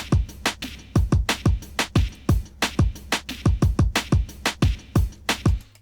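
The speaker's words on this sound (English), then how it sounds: "Then we have the actual like beefy drums with the kick and snare and everything" Beefy programmed drum pattern with a hard kick and a snare, punching in a fast, steady groove of loud, tight hits packed closely together, with crisp attacks and short decays, upfront with no voices.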